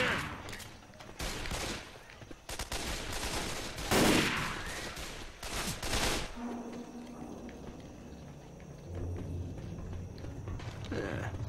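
Dense gunfire rings out in Left 4 Dead 2, several weapons firing in bursts and rapid volleys, loud and close, then thinning to scattered shots over background game noise and faint voices.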